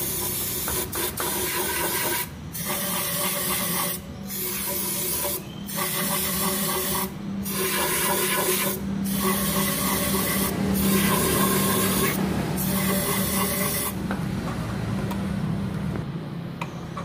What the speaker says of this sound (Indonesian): Kita semprotkan lagi dengan throttle cleaner.